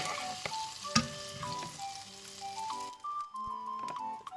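Margarine sizzles and crackles steadily in a hot frying pan, a close, continuous frying hiss for a shrimp and egg dish, with faint tonal sounds in the background.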